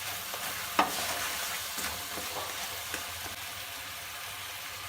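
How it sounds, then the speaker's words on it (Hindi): A spoon stirs apple chutney with sugar in a wok over a soft, steady sizzle, with light scraping strokes and an occasional sharper clink of spoon on metal, close and moderately quiet, no voices. "इसीलिए हम इसको चम्मच हिलाते रहेंगे, अच्छे तरीके से मिक्स करते जाएंगे"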